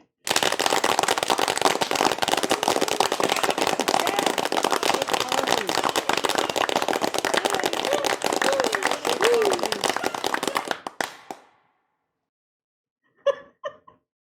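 A synthesized clap with a delay effect repeats in a dense, rapid train of crisp hits for about ten seconds, then thins into trailing echoes before stopping. Voices chatter briefly afterward.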